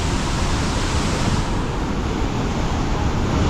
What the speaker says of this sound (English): It's definitely a strong current in that water.